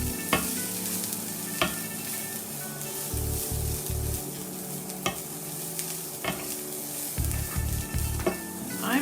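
Vegetables from a veggie slaw mix tossed with cooking oil in a hot pan, with a steady sizzle and fry under repeated scraping stirring strokes that come in short bursts over about nine seconds.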